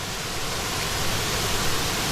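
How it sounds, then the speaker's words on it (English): A small waterfall on the Bolaven Plateau in Laos sends up a steady, dense rush of falling water, heard close and continuous with no talking. "So I see the first waterfall is right here."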